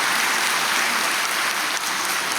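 A church congregation claps during a sermon, a steady dense wash of applause filling the room without a break for a couple of seconds.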